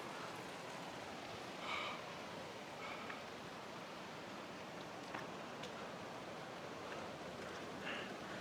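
A river near Bhira in the Tamhini Ghat area of Maharashtra flows steadily, a soft, even wash of water noise that stays constant throughout, with someone speaking faintly over it.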